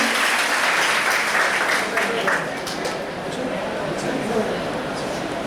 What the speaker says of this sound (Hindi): आप लोग जोरदार तालियों से इनका अपना उत्साह बढ़ाएं।